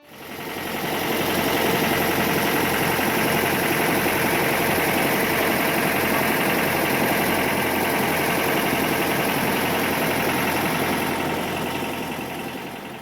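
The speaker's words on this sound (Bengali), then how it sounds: "আমাদের বোট কিন্তু এই জাস্ট স্টার্ট করলো" A motorboat engine runs on Rudrasagar lake in the rainy season, starting up and then holding a loud, steady, rough drone close by, with no talk over it.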